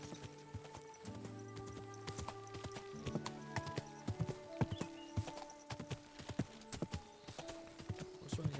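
Horse hoofbeats in the video game Kingdom Come: Deliverance 2, a steady clip-clop of riding over a medieval path, with faint whinnies and game ambience layered behind.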